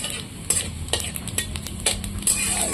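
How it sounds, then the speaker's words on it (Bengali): Chillies and panch phoron spices sizzle and crackle in hot oil in a home kitchen, with intermittent stirring scrapes and utensil clinks close by. "তেল তো চলে এসছে লঙ্কা পাঁচফোড়ন দিয়ে দিচ্ছি"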